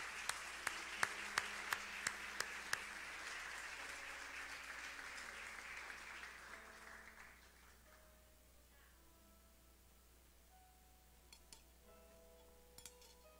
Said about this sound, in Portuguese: Aplaude ao Senhor agora em nome de Jesus.